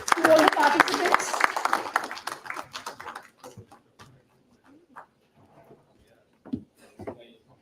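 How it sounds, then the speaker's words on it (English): A conference audience at the valedictory session of an international law conference at Integral University gives a round of applause. The clapping is loud and dense at first, then fades to scattered claps, with room noise and faint voices. "A huge round of applause to all the participants."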